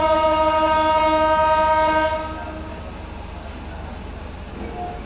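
Shimanto Express passenger train running from Rajshahi toward Khulna, a loud steady rumble with a sustained horn blast for about two seconds, then continuing quieter rolling rail noise.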